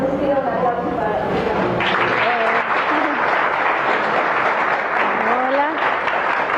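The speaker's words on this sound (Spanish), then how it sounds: "pido un aplauso" An audience at an academic talk breaks into sustained applause, dense clapping at a steady level throughout, with voices speaking over it.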